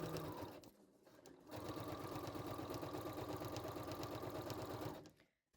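A sewing machine runs steadily, stitching quilting stripes into foam-stabilised fabric for a makeup bag, with a guide following an earlier centre stitch line. A short start, a pause, then a long, even, rapid mechanical chatter that stops abruptly near the end.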